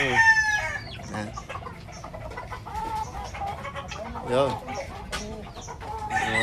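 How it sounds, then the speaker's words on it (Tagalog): Shamo fighting roosters cluck and crow close by in a busy farmyard, with people talking briefly in the background. "Manok talaga panabong yan."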